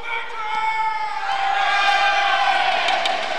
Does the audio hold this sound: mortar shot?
no